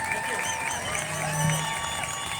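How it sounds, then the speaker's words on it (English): Crowd at a political rally in Strathmore applauds and cheers in a steady wash of claps and voices, a few whoops rising above the noise. "give them all a good applause"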